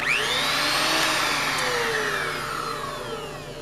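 A vintage Powr-Kraft electric router gives a loud, steady motor whine that spins down slowly, its pitch sliding lower as it winds toward a stop.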